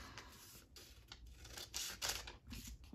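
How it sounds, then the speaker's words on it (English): Scissors trimming excess tracing paper in a Christmas craft project, a series of close, crisp snips and cuts of varying strength, irregularly spaced across a quiet background, no talking. "I'm just going to use my scissors."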